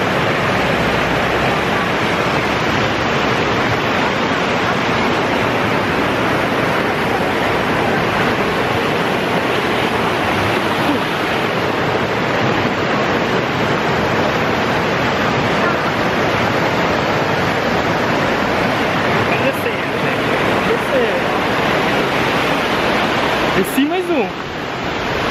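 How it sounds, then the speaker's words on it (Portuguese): Icy water from a mountain stream rushes and splashes continuously, a dense, loud broadband roar that lasts the whole time. Faint voices occasionally sit beneath the flow. "Água geladinha que desce ali da montanha."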